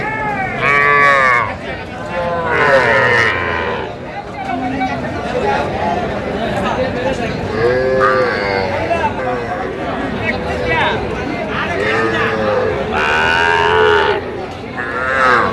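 Cattle at a busy livestock market in Dinajpur moo repeatedly and loudly, several long calls rising over a crowd's chatter and general hubbub.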